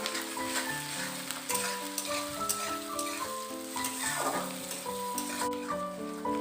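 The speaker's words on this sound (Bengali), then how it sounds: "আদা রসুনটাকেও ভালো করে পেঁয়াজের সাথে ভেজে নেব আমি" Ginger garlic paste fries with onions in a pan, a continuous close sizzle with stirring, while steady tonal music plays over it.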